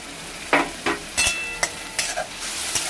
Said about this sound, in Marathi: आता याच्यामध्ये टमाटर टाकून आपण फ्राई करून घेऊया।